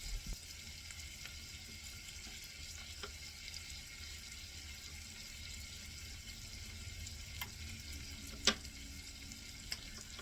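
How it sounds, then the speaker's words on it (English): A medium onion sautéing in a pan, a steady low frying hiss running alone and fairly quiet, with a few faint clicks and one sharp tap near the end. "I'm gonna saute my onion for 2 minutes"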